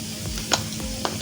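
Chana dal sizzles softly in a pan, with a low steady frying hiss and a few brief stirring scrapes close by.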